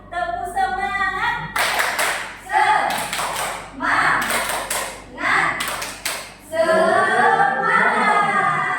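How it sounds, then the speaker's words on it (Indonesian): A class performs the rhythmic Indonesian 'tepuk semangat' spirit clap, bursts of synchronized clapping in patterned groups with chanted voices between them and a group shout at the end. "Ayo tepuk semangat."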